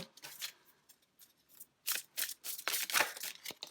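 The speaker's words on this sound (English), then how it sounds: "There's going to be lots of shuffling for a bit" Tarot cards are shuffled by hand in a quiet room, with quick papery riffles and slaps coming in short, uneven bursts that grow busier after a pause, close and fairly soft, with no one talking.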